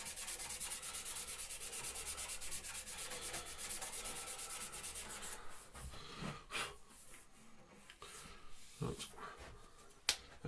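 Sandpaper rubs back and forth along the grain of a wooden pen blank, a steady close scratching for several seconds, then breaking into sparser strokes and a few sharp knocks near the end.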